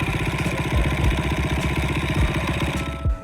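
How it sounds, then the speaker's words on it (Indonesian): A Takegawa Desmo engine built for an underbone motorcycle idles steadily, a loud, close, even mechanical thrum with fine clattering pulses and no speech. "ini adalah mesin Takigawa Desmo dan mesin ini dirancang khusus hanya untuk motor bebek"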